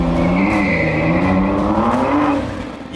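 A NASCAR champion's sports car pulls away, its engine note rising steadily and loud and close, with a faint tire squeal over the continuous run.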